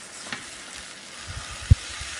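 An omelette egg frying in a pan gives off a steady soft sizzle, with a few faint scrapes and one sharp brief tap near the end, close and unaccompanied by talk.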